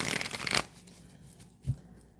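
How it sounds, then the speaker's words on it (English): A deck of cards is shuffled in a quick, crisp riffle burst lasting about half a second, followed by quiet and a single soft thump. "Shuffle these cards."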